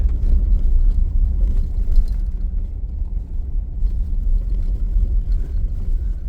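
Car rolling slowly over a rain-damaged dirt road in the Utah west desert near Simpson Springs, a steady low engine rumble with bumps and rattling from the rough surface, close and continuous.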